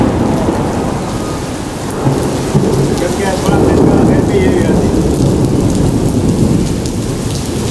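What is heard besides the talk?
heavy rain with thunder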